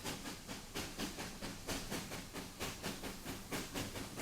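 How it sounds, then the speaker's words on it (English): Steam locomotive on a Texas Parks and Wildlife railroad pulling coaches, with a steady rhythmic chuffing and hiss repeating about every third of a second, loud and continuous with no voices. "They have steam locomotives that pull some impressive coaches."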